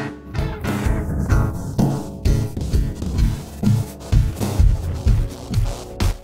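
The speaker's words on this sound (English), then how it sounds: "Morph uses a spectral algorithm to blend the inputs." A Transmutator plugin in morph mode spectrally blends two audio inputs, giving a dense, rhythmic musical mix with regular punchy beats and a smeared, throbbing tonal texture that carries steadily throughout, with no voices.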